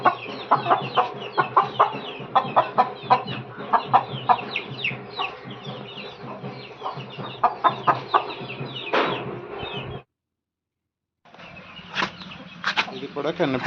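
Bhimavaram breed hens cluck in a close, busy chorus of repeated short calls, with a brief silent break near the end before the clucking resumes.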